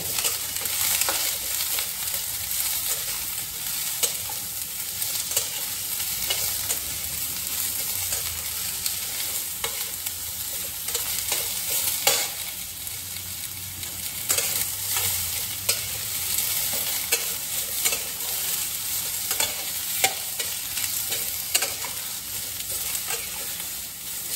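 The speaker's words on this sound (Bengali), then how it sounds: "বেগুনটা অত লাল লাল করে না ভাজলেও চলবে, জাস্ট কালারটা চেঞ্জ হবে" Eggplant frying in a pan, a long, even sizzle with frequent stirring scrapes and crackles.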